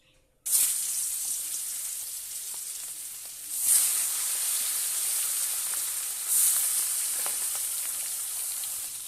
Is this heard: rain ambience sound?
no